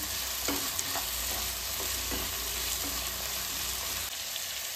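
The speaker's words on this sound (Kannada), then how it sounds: "2 ಟೊಮೊಟೊನ ಹಾಕ್ತಾಯಿದ್ದೀನಿ. ಒಂದು 2 ನಿಮಿಷ ಚೆನ್ನಾಗಿ ಫ್ರೈ ಆಗಿ" Chopped tomatoes fry in a pan for bread masala with a steady, soft sizzle, broken by a few light scraping stirs, close up and continuous with no talk.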